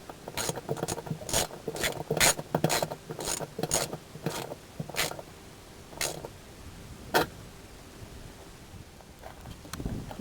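A ratchet tightens a fitting for a Can-Am Spyder air system install, giving bursts of quick mechanical clicks in close, uneven runs that thin out to a few isolated clicks.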